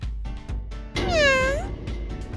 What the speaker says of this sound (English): The kitty cat got scared and ran away.